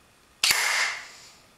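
A single sharp shot from an ARES Amoeba airsoft sniper rifle, loud and close, with a quick double transient followed by a hissy, fading tail.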